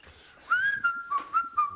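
A person whistles a lilting tune while decorating and hanging wallpaper, a few clear sustained notes with short breaks between them, close and alone.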